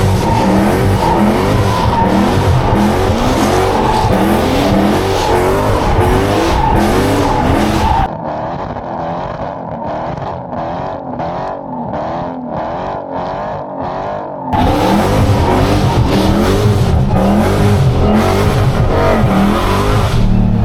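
A Dodge Hellcat slides through turns with loud, continuous engine roar and tire squeal filling the cabin, easing to a quieter, pulsing rumble midway before the full loud skid and revving return.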